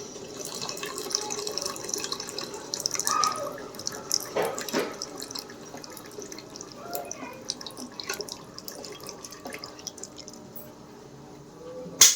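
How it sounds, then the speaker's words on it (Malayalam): Hot water poured into a sauce to thin it, soft splashing and dripping with occasional clinks and stirring squelches, fairly quiet and close. "ഞങ്ങൾ കുറച്ചും കൂടി ചൂടുവെള്ളം ഒഴിച്ചു കൊടുക്കാൻ പോവുകയാണ് കട്ടി കുറയ്ക്കാൻ വേണ്ടി."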